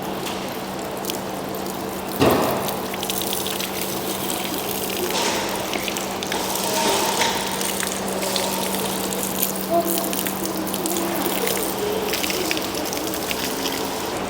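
Pure water sheets off a ceramic-coated Audi TT-RS Nogaro Edition, a steady rushing hiss of rinse flow running throughout with a brief knock early on.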